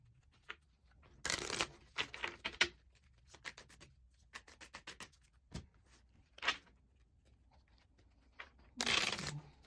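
Oracle cards are shuffled in several separate bursts, giving close, crisp riffling and flicking with quiet pauses in between and soft handling noises.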